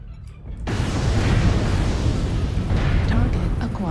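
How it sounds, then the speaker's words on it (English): An artillery strike in the mech combat game MechWarrior Online, on the Liao Jungle map, lands after a brief quiet moment. It bursts into a loud, sustained, rumbling roar of close explosions that continues without a break to the end. "Artillery strike activated."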